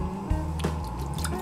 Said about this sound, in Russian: А в мультиварку нам надо первым делом залить литр воды.